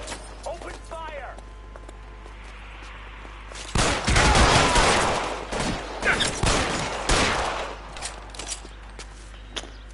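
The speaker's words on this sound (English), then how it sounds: "Open fire." Rapid bursts of gunfire in the L.A. Noire Remastered game, a dense clattering volley lasting several seconds and then trailing into scattered shots, with voices talking over the fighting.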